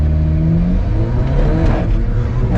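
An Alfa Romeo 4C accelerates hard, its engine rising in a loud, continuous rev heard from inside the car, with the pitch climbing steadily through the pull.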